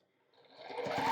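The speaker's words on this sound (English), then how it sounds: "place them right sides together and sew a 1/4 inch seam" Sewing machine stitching a quarter-inch seam through two cotton quilt squares placed right sides together, starting faint and building to a steady close whir over about a second with no talking.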